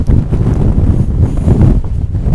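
Strong wind on an exposed hill ridge buffeting the microphone in loud, low, continuous gusts that roar without pause.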